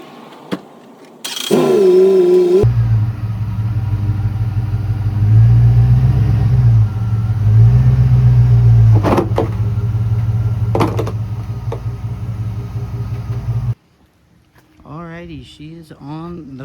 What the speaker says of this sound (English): we're gonna get the car ramps in front of the wheels, and we're gonna get the car up into the air